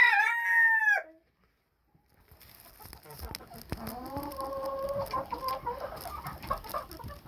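A rooster crows loudly at the start, then after a short quiet pause hens cluck and warble in a busy, overlapping chatter close by.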